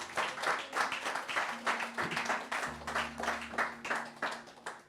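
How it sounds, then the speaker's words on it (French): A church congregation claps in a steady rhythmic beat during a French-language sermon, moderately loud and continuous, with a sustained organ or keyboard tone underneath. "Acclamons le Seigneur, ça va nous réveiller"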